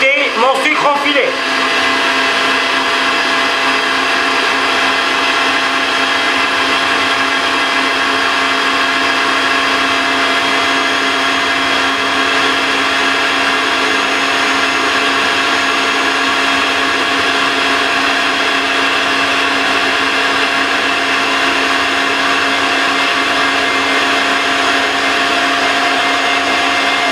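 An electric mixer beating egg yolks at full speed as sugar is added for an iced coffee soufflé, starting with a brief clatter and then running as a steady, loud whirring drone throughout.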